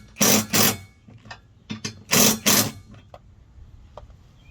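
Bolts being tightened with a ratchet on a 2011 Dodge Ram 1500, close by: two loud bursts of rapid clicking, each pair of strokes about two seconds apart, with quieter ticks and knocks between them.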